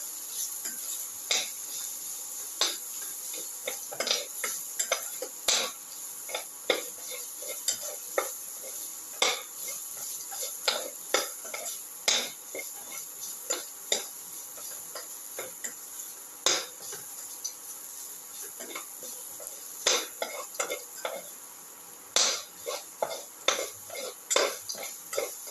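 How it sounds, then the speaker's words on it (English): A spatula scrapes and clinks against a pan while a ginger, eggplant and potato mixture is sautéed, giving irregular metallic taps and stirring over a faint steady sizzle. "Keep on sauteing"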